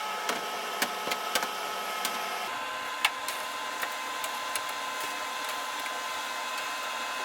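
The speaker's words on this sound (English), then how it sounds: "And we're freeze drying." A steady mechanical hum of a freeze dryer running continuously while freeze drying fruit, with faint scattered clicks and ticks over it, moderately quiet throughout.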